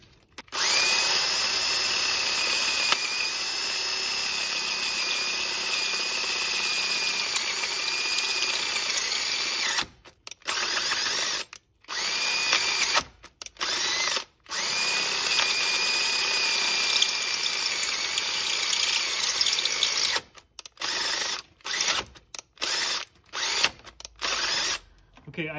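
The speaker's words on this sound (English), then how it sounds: "get this drill bit chucked up and" A power drill boring holes in a Civic R18 engine block for thread repair whines loudly and steadily for long stretches, then cuts in and out in short bursts with brief silences between.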